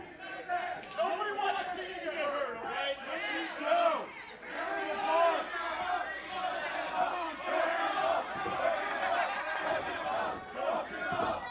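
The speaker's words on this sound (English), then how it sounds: "Real vulgar crowd today at Creative." A wrestling crowd at an indoor match shouts and chants, a dense roar of many voices rising and falling in waves throughout, with a few louder yells standing out.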